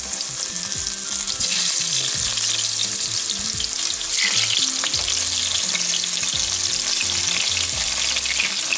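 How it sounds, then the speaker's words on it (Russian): Eggplant frying in hot vegetable oil in a pan, a loud, dense, steady sizzle that carries through the whole stretch, close up with faint low clatter underneath and no talking. "Начинаем обжаривать баклажаны."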